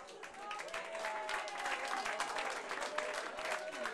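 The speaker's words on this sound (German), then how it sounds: "Ein herzlicher Applaus bitte." Crowd at a spring festival stage show applauding a guest singer, steady dense clapping throughout at moderate level, with faint voices mixed in.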